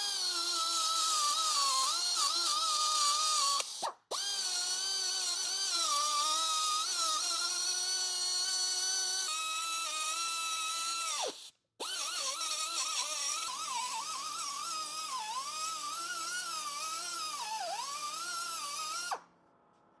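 A small rotary sanding bit on a high-speed power tool smooths the edges of stainless steel, a shrill whining tone whose pitch wavers under load, running in three long bursts with brief stops between.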